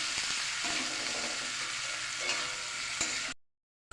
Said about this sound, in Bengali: এই যে আমি এবার ডিমগুলো ছেড়ে দিলাম, ভালো করে নাড়াচাড়া করে নিব